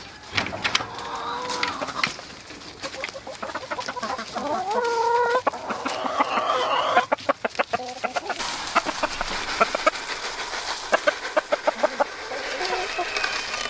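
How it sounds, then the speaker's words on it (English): A flock of chickens clucking and chattering nearby, busy and continuous, with rustling and scattered sharp clicks throughout. "now we have all the chickens outside here"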